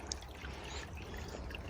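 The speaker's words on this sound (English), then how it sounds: "Look how much water is coming on it though." Water trickles beneath a pipe dug under a muddy hiking trail, a close, steady, continuous wash with no voices.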